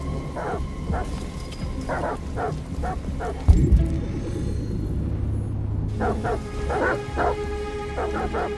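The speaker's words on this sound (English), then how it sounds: "Goddamn dogs." In Detroit: Become Human, dogs bark in steady repeated bursts at mid distance over a low rumbling ambience, pausing briefly after a heavy thump before the barking resumes.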